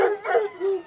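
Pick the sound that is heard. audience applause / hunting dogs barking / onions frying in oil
hunting dogs barking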